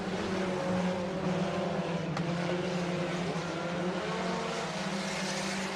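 Race cars lap an oval at Buena Vista Raceway in a sport compact and hobby stock feature, a steady drone of engines from the passing field, moderately loud and unbroken, with no talk.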